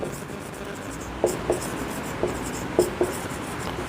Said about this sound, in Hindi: अभी उसका नाम लिख के बताता हूं आपको मैं।